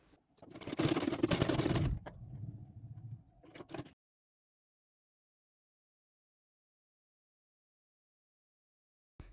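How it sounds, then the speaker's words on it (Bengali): Sewing machine running in a quick burst of stitching on pillow cover fabric, loud and close for about two seconds, then softer, slower stitching before it stops and the room falls silent. "বড় কাপড়টাকে মুড়িয়ে ছোট কাপড়টার ওপর রেখে এইভাবে সেলাই করে নেব।"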